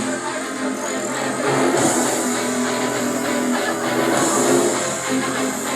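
A vehicle passes by during a town fiesta, its engine rumbling steadily under crowd noise and a loudspeaker announcer at a busy outdoor event.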